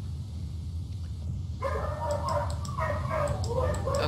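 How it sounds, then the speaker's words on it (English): A household dog barking in the background, a cluster of short muffled barks starting partway through over a steady low hum. "Nope, that's my dog."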